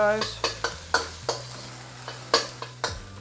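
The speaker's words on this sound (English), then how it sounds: "So we are going to now add our garlic and ginger, all of it." Garlic and ginger sizzle in a hot pan while a utensil stirs, giving a steady frying hiss broken by repeated sharp scraping clinks, with a brief spoken word.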